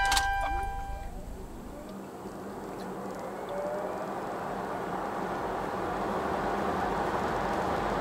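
A 2023 Audi Q4 e-tron electric SUV pulling away hard from a standstill in dynamic mode, heard from inside as a steady rising motor whine over road and wind roar that builds through the run.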